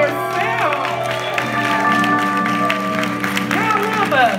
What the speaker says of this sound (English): And applause for yourself.